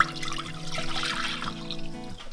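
A half gallon of milk pours steadily into a cooking pan, a continuous close liquid stream with a gentle splashing texture that tapers off near the end.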